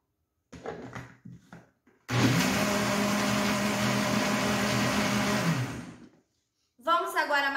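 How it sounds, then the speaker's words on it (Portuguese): Blender mixing a marinade for a 1.5 kg pork leg, running steadily and loud for about four seconds before cutting off, with someone talking briefly before and after. "E agora eu vou bater somente para misturar mesmo."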